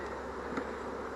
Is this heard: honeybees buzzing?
yes